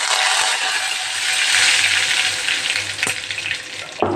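Cumin seeds, sesame seeds and curry leaves sizzle and crackle loudly in hot oil for Gujarati handvo. The frying is close, dense and continuous, with a sharp clink near the end.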